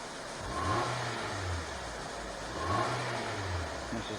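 A 5th-generation Nissan Altima 2.5 four-cylinder engine gets two sharp snap throttles, each rev climbing quickly then falling back to idle, heard up close and loud with no talk.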